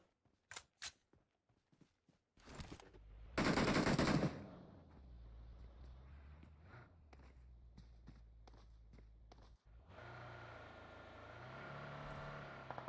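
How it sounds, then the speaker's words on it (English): Video game gunfire in a battle-royale league match: a few sharp shots at the start, then a loud burst of automatic fire, followed by footsteps and a low engine-like drone. "Oh, Spec taking shots."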